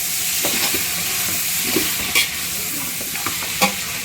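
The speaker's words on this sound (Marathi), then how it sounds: "मसाले आहेत ते पूर्ण त्याच्यामध्ये आता आपण मिश्रण करून घेऊया, एकजीव करून घेऊया" Spices being stirred into mutton in a pot, village-style: a steady scraping stir with soft sizzling frying underneath, a few sharper clinks of the spoon against the pot, close and moderately loud.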